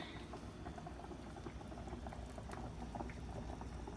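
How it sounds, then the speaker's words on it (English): Butter melts in a pot as the base for chicken noodle soup, giving a faint, steady bubbling and crackling sizzle that runs on without pause and without any voices. "So let's melt this butter."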